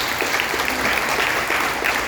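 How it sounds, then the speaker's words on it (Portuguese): Church congregation applauding during a Sunday communion service at IIGD Samambaia, dense continuous clapping from a crowd filling the whole moment. "Palmas para Jesus"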